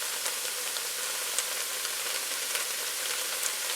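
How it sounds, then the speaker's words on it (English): Chopped vegetables sweating in a pan for cheesy chicken spaghetti, giving a steady, even sizzle at close range with no pauses or voices. "we're really just waiting for those vegetables to sweat down right now"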